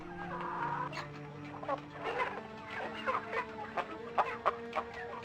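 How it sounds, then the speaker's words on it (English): Chickens cluck in a medieval video game, a run of clucks and squawks at close range, sparse at first then rising into sharper repeated calls, with no talk over them. "I actually love the sound effects that the chickens produce here."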